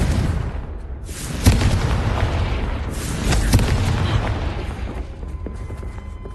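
A blasting spell goes off in the Hogwarts Legacy video game with heavy, booming explosions, two strong bursts that rumble loudly, then die away toward a quieter tail.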